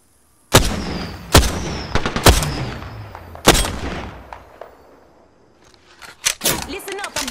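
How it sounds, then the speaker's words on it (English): Video game gunfire in Halo: several sharp, loud shots crack out close by in uneven bursts over the first few seconds, then fade to a quieter stretch before more scattered hits near the end. "Listen up, I'm getting shot at."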